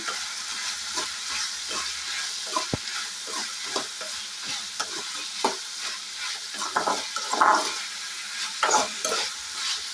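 Steady sizzling of snake gourd frying in oil, with repeated scraping and clacking as a utensil stirs the pan.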